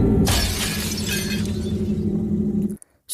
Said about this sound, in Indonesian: Sarah pun mencoba untuk memaksakan membuka jendela tersebut dan jendelanya malah pecah